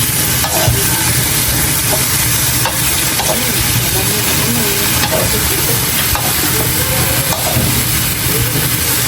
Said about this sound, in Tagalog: Lagyan po natin ng kaunting asin. Ayan, at atin lang po munang haluin.